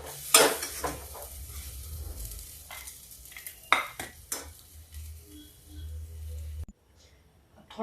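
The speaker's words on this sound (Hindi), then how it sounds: "धुल के अब इसको भी थोड़ा सा फ्राई कर लेते हैं।" Washed moong dal frying in a pan hisses steadily under repeated scraping strokes and metal clinks of a spoon against the pan, close and moderately loud, before the sizzle drops away near the end.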